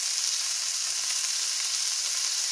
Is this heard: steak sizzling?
yes